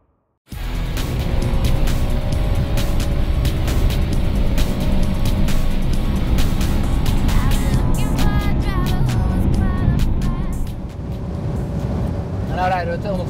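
An Audi RS5 driving at high speed, around 250 km/h, makes a loud, continuous roar of engine, tyre and wind noise from inside the car, easing briefly near the end.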